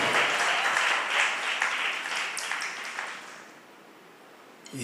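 A church congregation clapping during a Sunday morning service, a dense burst of applause that fades out over several seconds, with no talking.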